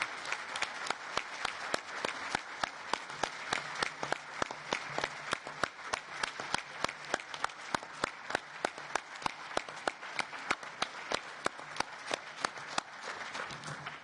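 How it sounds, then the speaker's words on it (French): Sustained applause from an audience at the European Economic and Social Committee in Belgium, many hands clapping steadily and densely for about fourteen seconds, fairly distant and even, with no talk over it. "Cher Michel Barnier, l'applaudissement dit tout notre remerciement"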